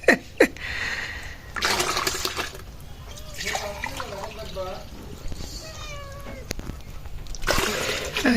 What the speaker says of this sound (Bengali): দেখেন বিড়াল দুধ আরো চাইতেছে দুধ খাইছে